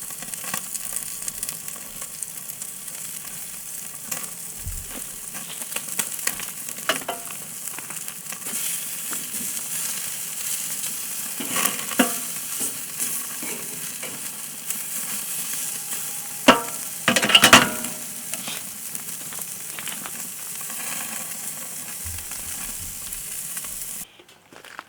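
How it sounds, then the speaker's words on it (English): Country-style pork sears on a camp grill over oak coals and smoke, a continuous crackling sizzle outdoors with occasional louder pops and shifting as the meat is handled, no talk. "Then I put my pork on top of that to sear it."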